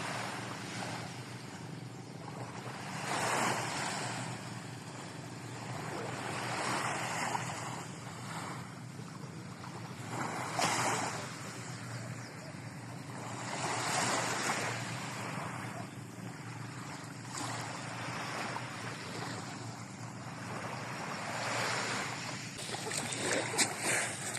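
Sea waves washing onto a beach in barangay Luma, Mindoro, a steady broadband surf wash with gentle swells and wind buffeting the microphone, no voices.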